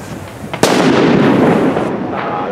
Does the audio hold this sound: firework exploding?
yes